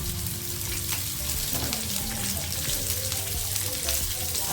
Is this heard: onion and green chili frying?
yes